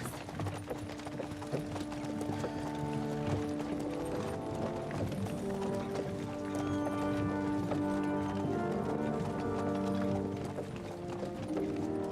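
A horse's hooves clip-clopping steadily in the Kingdom Come Deliverance 2 video game, a continuous rhythmic trot heard over ambient game music and mechanical creaks.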